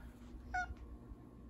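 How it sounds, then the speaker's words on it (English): A cat gives a single short, faint meow indoors, alone and heard only once against quiet background noise. "Cat."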